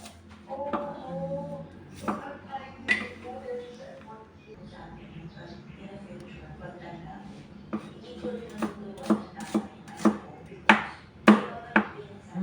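Knife chopping onion, ginger and garlic on a board while preparing chicken adobo, a run of sharp, evenly spaced chops that grows louder and quicker toward the end, following a stretch of quieter handling noise.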